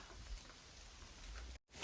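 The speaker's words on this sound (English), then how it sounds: "We have been standing in the rain." Steady rain falls on a trail during a hike, a dense, even patter filling the scene at low volume before a brief dropout near the end.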